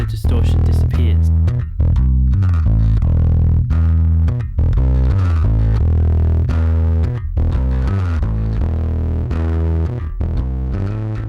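A heavily distorted, gritty electric guitar plays chugging riffs and chords, its tone crunchy and saturated throughout, shaped by a compressor to make the distortion edgier.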